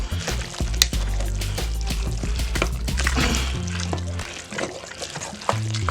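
Seasoned shrimp are stirred into a thick jambalaya inside a Power Pressure Cooker XL, making wet, sloshing stirs with scraping and a few sharp utensil clicks, loud and close.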